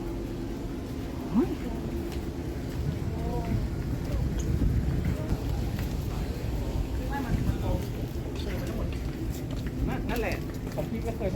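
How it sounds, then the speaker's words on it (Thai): At the Tha Tien ferry pier across from Wat Arun in Bangkok, steady wind buffets the microphone over a low boat engine rumble and river bustle, with people talking nearby throughout. "จุดนี้คือจุดที่เป็นท่าเรือข้ามฟากไปวัดอรุณนะ"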